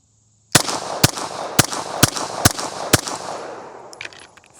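Six sharp pistol shots crack out in a fast, slightly uneven string at a USPSA practical shooting range, each loud and close with a short ringing decay, followed by a quieter tail of fading reverberation.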